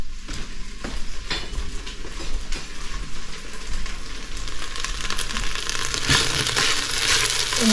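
A spoon scrapes and stirs pulao rice in a hot frying pan with a steady sizzle, the scraping strokes repeating irregularly and close up, with no voices.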